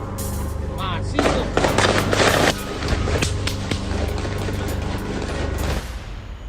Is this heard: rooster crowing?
no